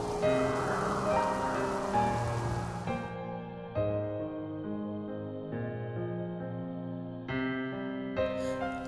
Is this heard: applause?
no